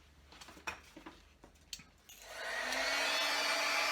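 Faint soft tapping and handling give way to a heat gun switching on and blowing steadily while heating embossing powder, a close, continuous broadband whoosh that holds to the end.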